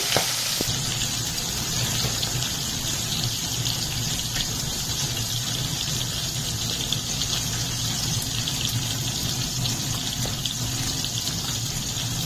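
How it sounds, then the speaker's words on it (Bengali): Rui fish pieces sizzle and crackle in hot oil, a steady frying hiss that stays constant and close with no talking. "প্রথমে আমি মাছের মাথাটাকে ছাড়বো কিন্তু এর চোখটা তেলের দিকে দেব"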